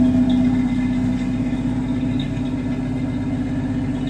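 A 1965 Ford Mustang engine at idle, played back from a phone recording, gives a steady low rumble with an even, continuous drone and no talk over it.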